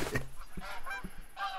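Canada geese in theHunter Call of the Wild give several distinct nasal honks, spaced irregularly and moderately distant over a quiet background.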